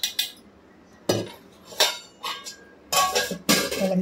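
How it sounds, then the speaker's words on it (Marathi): A spoon clinks and scrapes against a metal pot while homemade curd is scooped in, several separate sharp clatters with short pauses between them, close and clear. "3 चमचा भरून दही टाकते मी।"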